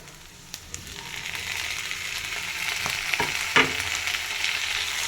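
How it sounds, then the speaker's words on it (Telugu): Tomatoes sizzle and fry steadily in a hot pan for nalleru chutney, a continuous close crackling hiss with a few sharper pops and stirring scrapes, and no voices. "ఇప్పుడైతే టమాటాలు వేసేసుకుందాం."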